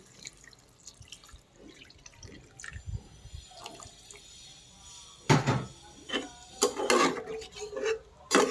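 Water poured into a pan of egg and potato curry: faint clinks and drips at first, then several loud splashing gushes of water in close succession.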